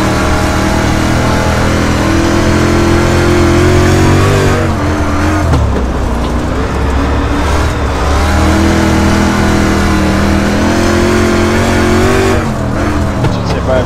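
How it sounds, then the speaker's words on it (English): Race car engine droning loudly and steadily at speed on a track as a car spins, with pitch shifting as revs dip and climb, alone without talk. "Watch the 10, he's spinning on the track."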